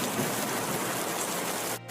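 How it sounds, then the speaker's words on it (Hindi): Heavy rain pours steadily in a dense, even hiss with no voices, dipping briefly near the end. "और तो और ऊपर से बहुत तेज बारिश भी हो रही है।"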